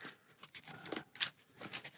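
A deck of gear cards for the Shadows of Brimstone board game gets shuffled by hand, giving soft, quick papery riffles and flicks close by, with no talk.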